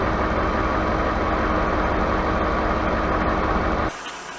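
A Dodge Dakota V8 truck idles steadily and loudly with a dense low rumble, fitted with an electric fan in place of the fan clutch, constant for about four seconds before dropping abruptly to a quieter hum.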